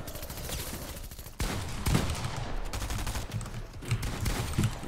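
Dense gunfire in a video game shootout, with bursts of rapid automatic shots and a heavier report that come close together and stay loud for the whole stretch.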